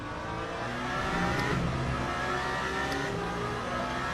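A V12 race car engine from Le Mans Ultimate drones steadily at high revs, a smooth continuous howl that holds near and loud with no talking.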